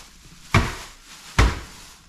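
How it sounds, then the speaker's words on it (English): Ice poured into plastic cups in a storm-hit home, heard as two sharp rattling clatters about a second apart, fairly close and loud with a quiet background between them. "So we're filling up these Zach cups with ice to keep some cold water."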